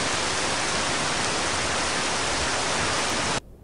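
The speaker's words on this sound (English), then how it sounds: "Okay, so it's a heavy rain." Heavy rain as a dense, steady broadband hiss, loud and unchanging for about three seconds before cutting off abruptly, with no voices.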